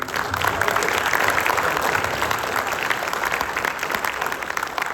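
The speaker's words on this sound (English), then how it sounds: "can we just get a round of applause for that?" Applause from the audience at an author talk, a steady crowd of clapping hands at moderate loudness, continuous for five seconds with no pauses.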